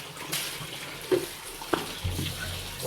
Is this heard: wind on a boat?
no